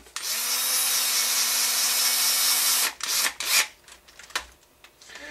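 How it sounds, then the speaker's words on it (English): A power drill drives screws while a Turtle Racing rear transmission plate is installed. A loud steady whir winds down after about three seconds, then short bursts and clicks of handling follow nearby. "Then we're going to go ahead and tighten those down."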